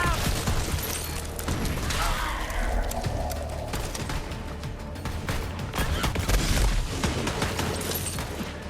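Gunfire in the video game Borderlands 3, dense rapid shots and booming bursts running throughout under constant battle noise, with occasional voice lines.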